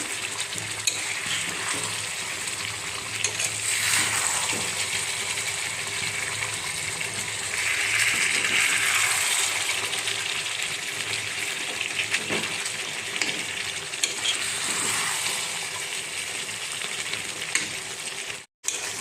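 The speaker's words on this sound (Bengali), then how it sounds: "আলুগুলি দিয়ে আমি একটু ভালো করে নেড়ে চেড়ে দিচ্ছি।" Fried potatoes stirred into chicken kosha in a pan: a continuous loud sizzle with swelling hissy bursts and occasional scraping stirs, close and without talk.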